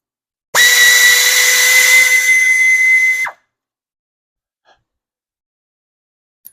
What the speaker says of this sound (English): The back ones, I'm going to use my air ratchet.